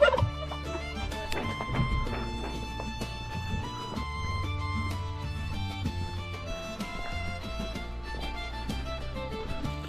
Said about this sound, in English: Got some turkeys.